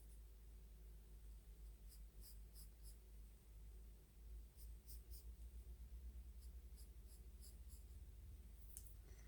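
A pen or marker drawing boxed letters on paper, faint close scratching strokes under a steady low background hum.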